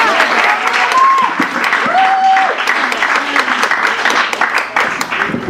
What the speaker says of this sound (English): Let's please give them a warm round of applause.